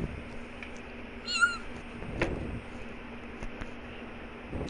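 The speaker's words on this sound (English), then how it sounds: "She's my cat." A pet cat gives a single short meow partway through, faint and a little distant, over steady room hiss with a few soft knocks.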